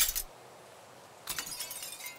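Glass panes shattering off the all-glass One World Trade Center tower in a video game, heard as a brief bright crash at the start, then a longer clinking, tinkling burst of breaking glass after a quiet gap.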